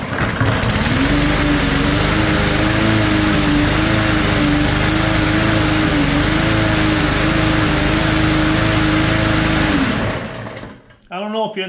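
A lawn mower engine with a compression release problem runs slightly rough, a loud, close, steady small-engine drone held for about ten seconds before it cuts off, followed by a brief voice.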